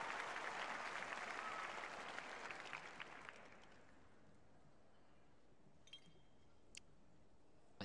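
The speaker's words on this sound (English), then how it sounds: "Ivan Shmuratko encouraging the applause in anticipation of his performance from the audience." Audience applause in a figure skating arena at the Grand Prix in Espoo, loud rhythmic clapping that fades over several seconds into quiet hall ambience with a few faint clinks.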